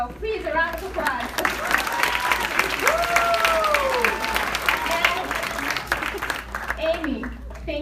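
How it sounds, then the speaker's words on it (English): Applause at a black-tie gala evening, a sustained crowd clapping over about eight seconds with voices and cheering mixed through it, steady and fairly loud throughout. "so please a round of applause."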